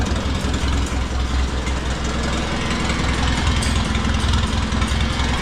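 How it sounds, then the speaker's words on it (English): An Oliver 66 tractor engine with a freshly rebuilt Marvel Schebler TSX carburetor idles close by, a loud, steady low rumble with an even mechanical knock throughout and no talk. "while it's idling, you run this screw in until the motor starts to labor"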